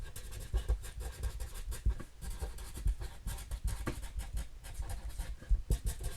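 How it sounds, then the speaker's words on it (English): A pen scratching on paper in quick, uneven bursts of strokes, close and fairly quiet, with short pauses between words as something is jotted down. "I just want to write this down."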